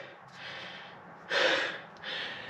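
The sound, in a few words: out-of-breath heavy breathing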